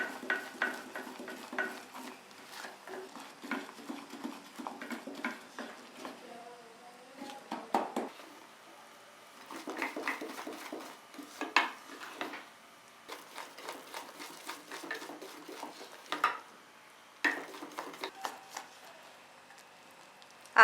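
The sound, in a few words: stirring melting sugar for caramel sauce in a pan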